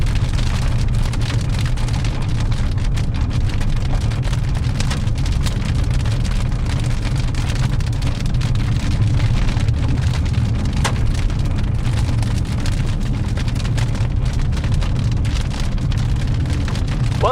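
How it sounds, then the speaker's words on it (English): Hail pours down steadily during a storm near Edmonton, a dense continuous roar of hard pellets drumming on surfaces with a deep low rumble underneath, loud and unbroken throughout, with no voices. "Probably doesn't even know it's hailing."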